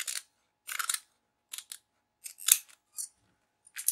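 Scissors snip along the inside edge of roman blind fabric, trimming about 3 mm off, in six or seven short crisp bursts of cutting separated by brief pauses, close and fairly quiet with no talking.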